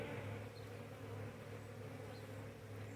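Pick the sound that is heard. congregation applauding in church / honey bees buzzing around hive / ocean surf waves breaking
honey bees buzzing around hive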